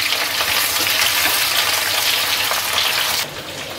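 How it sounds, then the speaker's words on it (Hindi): Jackfruit sizzles as it fries in a pan over a medium gas flame, a loud, steady hiss and crackle that drops off suddenly near the end, with no talk. "देखिए दोस्तों, कटहल फ्राई हो रहा है"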